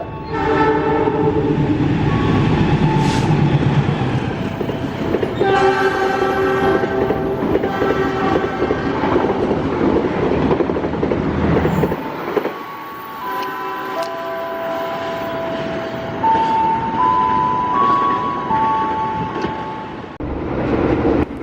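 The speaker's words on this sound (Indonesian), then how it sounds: "Jalur 2 Barat kereta api melintas langsung, hati-hati jalur 2" A train passes straight through a station on track 2 west without stopping, its loud rumble and wheel clatter filling the platform, with horn blasts sounding in the latter half.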